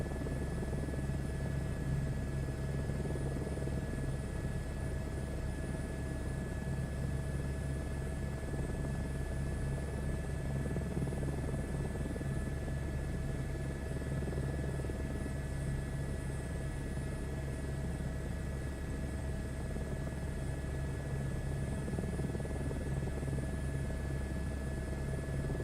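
A helicopter flying in a VR flight game over the UK, a steady, continuous rotor and engine drone that holds evenly for the whole stretch with no talk.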